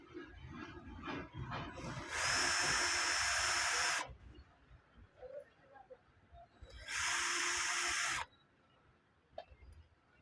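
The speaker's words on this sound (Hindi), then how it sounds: "अब मैं इसके ये दोनों स्क्रू निकाल लेता हूँ।" Two screws are removed from a battery sprayer pump motor during a repair, giving two separate bursts of harsh whirring hiss, each lasting a couple of seconds, with quiet handling noises between and after them.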